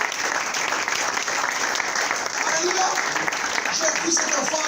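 Church congregation clapping steadily and loudly, a thick continuous wash of applause with scattered voices mixed in.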